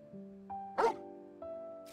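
Dog barking in the Final Fantasy XIV and XVI collaboration video game, a single short bark over a steady sustained game music tone, moderately loud.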